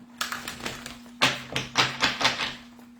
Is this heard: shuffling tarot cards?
yes